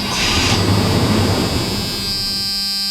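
The engine of a 1984 Chevy C20 truck, running with no gas in the carburetor, catches for a moment with a loud rough roar and then dies, leaving a fading whine.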